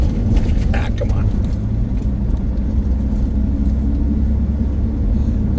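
Car driving a washboard gravel loop road in the Bison Range near Missoula, Montana: a constant loud low rumble and rattling from inside the vehicle, with faint jangling throughout.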